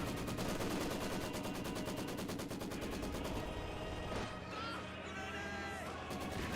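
Mortar shell landing in Company of Heroes 2 amid a busy battlefield, with rapid gunfire rattling early and a heavy impact crash midway, all heard quietly at a distance from the listener.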